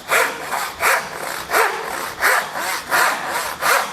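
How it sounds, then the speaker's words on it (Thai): A Japanese push saw rasps through wood in a steady rhythm, about six or seven strokes, close and loud with no talking. "นี่คือการใช้เลื่อยแบบดันหรือว่าเลื่อยแบบนี้นะครับ"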